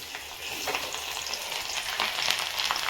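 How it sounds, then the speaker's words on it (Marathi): Garlic deep-fries in oil for chivda, a loud, continuous bubbling sizzle with crackling bursts and some stirring throughout, without speech. "आता मित्रांनो आपण लसूण फ्राय करून घेऊ"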